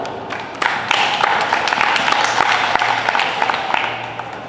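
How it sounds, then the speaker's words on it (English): Audience applause at a comic con panel with a Saw actor in Berlin, a steady wash of many hands clapping from a crowd at moderate loudness, with a faint hum underneath throughout. "So give yourselves a round of applause."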